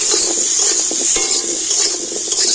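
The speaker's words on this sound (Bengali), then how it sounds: "হলুদ আর লবণ দিয়ে খুব সুন্দর লাল লাল করে আমি ভেজে নেব" Potatoes with turmeric and salt fry in a pan, a steady close sizzle with scraping stir strokes and light clinks of a utensil against the pan throughout, no voices.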